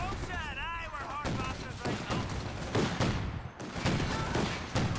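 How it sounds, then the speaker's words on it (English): Bursts of gunfire and an explosion crackle through a Company of Heroes 2 battle, with repeated sharp shots, a whistling projectile early on and dense rattling fire continuing throughout. "oh my god, another ambush with that grenade"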